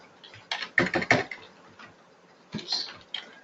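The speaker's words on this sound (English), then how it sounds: "You can just start typing it, just like you would in Excel." Someone types data into a spreadsheet on a computer keyboard: bursts of crisp, close key clicks, a quick cluster early, a pause, then another short run, with no talking.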